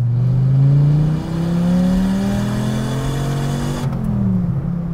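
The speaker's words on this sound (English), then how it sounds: "I'm also not sure you guys can hear a word I'm saying over this horrific exhaust." A Dodge Viper's exhaust drones loudly from inside the moving car, a deep steady engine note that climbs in pitch, dips briefly as revs shift, then settles again, with no talk.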